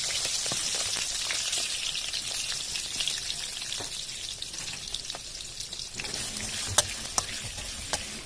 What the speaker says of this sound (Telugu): ఆయిల్ వేడెక్కిపోయిన తర్వాత మీరు స్టఫ్ చేసి పెట్టుకున్న వంకాయ ముక్కల్ని అందులో వేసుకోవాలి.